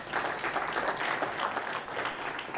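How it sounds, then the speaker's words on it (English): Audience applause at a CyberWeek Africa event as presenters walk off stage, a steady dense wash of many hands clapping at fairly close range, sustained throughout with no talk over it. "please let's clap for them again"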